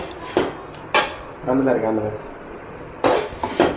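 Flattened rice being dry roasted in an empty pan for a sweet ragi snack, with scraping and clattering of utensil against the pan in several sharp bursts and a softer sizzling rustle between them, while a person talks.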